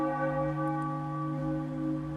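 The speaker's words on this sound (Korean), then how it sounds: "기도 시간을 알리는 장엄한 종소리가 울려 퍼졌다." A solemn church bell rings for prayer time, a single sustained, resonant tone with rich humming overtones that hangs steady and loud without any speech.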